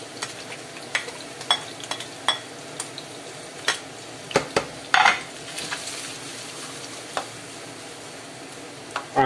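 Finely chopped medium onion frying in oil in a pan, with a soft steady sizzle under scattered clinks and scrapes as a utensil stirs it now and then.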